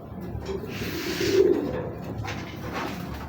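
Restless racing pigeons, saddle pied and small round-bodied birds, coo in a low continuous murmur close by, with a steady background hum and no talking.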